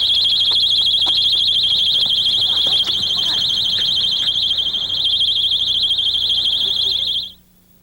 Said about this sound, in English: Yes, with a personal alarm attached to the bag.